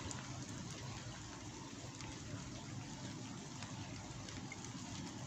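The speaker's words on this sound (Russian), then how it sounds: "Дождик льет" Steady rain falling at a summer carp fishing spot on a riverbank, a continuous broadband patter with dense low rumble, even and close throughout, with no voices.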